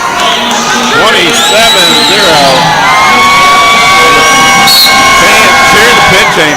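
Fans cheering a pin in an Ohio State vs Princeton college wrestling dual, loud whoops, shouts and yells swelling close and continuous, with voices calling out over the din.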